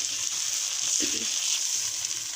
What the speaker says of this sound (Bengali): তারপর আমি একটু বেশি করে ভেজে নিচ্ছি